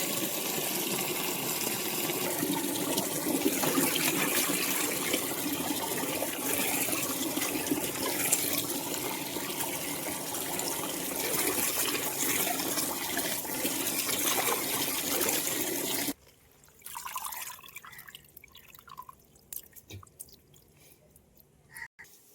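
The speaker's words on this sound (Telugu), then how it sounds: "మరింత వాటర్లో కడుక్కోవాలి ఆకులు శుభ్రంగా" Water splashes and sloshes continuously for about sixteen seconds as leafy greens are washed, then stops, leaving quieter intermittent drips and small handling sounds.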